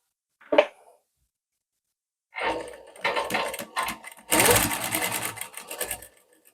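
A sewing machine stitches a dart on the front of a blouse: one brief burst of stitching, a pause, then longer uneven runs of rapid mechanical clatter that stop and start, close and fairly loud.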